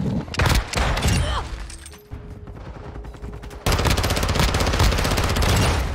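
Pistol gunshots in a video game, loud single cracks and rapid bursts over a busy game soundtrack that turns into dense continuous firing partway through, with no talking.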